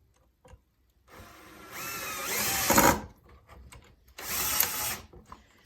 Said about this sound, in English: so now we're going to drill them in to get our L shape